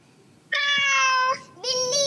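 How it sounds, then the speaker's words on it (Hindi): A cat gives two loud, close meows, a long drawn-out cry followed by a shorter second one after a brief pause. "हाँ भाई, बिल्ली है ये।"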